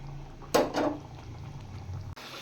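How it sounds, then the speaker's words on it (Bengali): Fish curry bubbles in a pot, a soft low simmer punctuated by one brief louder burst of liquid bubbling and spattering, with no talking. "এবার ভালো করে ফুটিয়ে নেব।"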